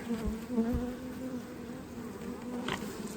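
Honey bees hum steadily around an open hive box, a soft continuous buzz with individual bees droning past close by and drifting away, fairly quiet and with no voices.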